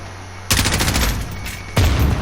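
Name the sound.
M4A1 gunfire in Modern Warfare video game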